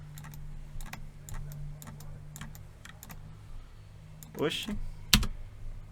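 Computer keyboard keys pressed near a mic during a Unity game-engine session, with a cluster of quick clicks and one sharp Enter key strike under steady background hum, while a person speaks briefly.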